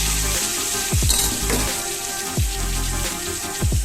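Chopped star fruit goes into a hot pan for pickle, bringing a steady frying sizzle broken by several low, sweeping stirring scrapes at regular intervals, close and fairly loud, with no voices.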